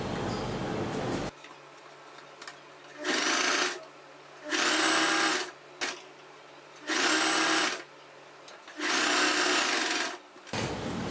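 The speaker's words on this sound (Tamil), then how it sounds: "இப்போ நம்ம வந்து இதை மடித்து இந்த ஓரத்தெல்லாம் மடித்து இப்போ தைச்சிக்கலாம்" A sewing machine stitches the folded neck edge of a churidar in four or five steady, close, loud bursts, separated by short pauses with quiet background hiss and no talking.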